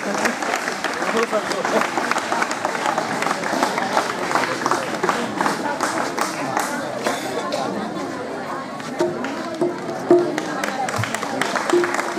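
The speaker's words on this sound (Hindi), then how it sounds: "छात्र ताली बजाएं।" Students clap in a steady, dense round of applause at a school Teachers' Day event at JNV Kushinagar, with crowd chatter and voices mixed in throughout.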